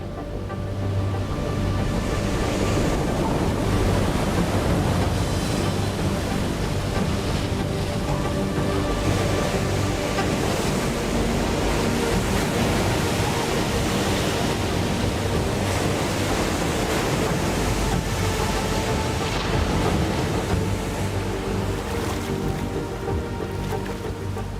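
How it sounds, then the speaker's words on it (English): Wind-swell ocean surf roars steadily and loudly, a continuous wash of breaking waves with no talking. "Wind swells make powerful waves to surf."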